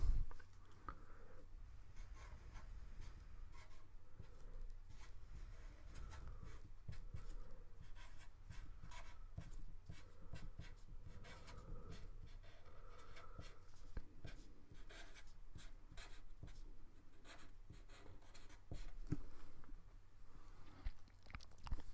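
Pen or pencil writing out a probability formula by hand, a steady faint scratching that continues through the whole stretch with no talk.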